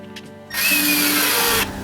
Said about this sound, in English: And screw it into place.